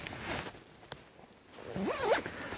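A zipper on the top of a Hazard 4 Messenger Of Doom bag is pulled, giving short ratcheting rasps up close, then a longer, louder zip run near the end.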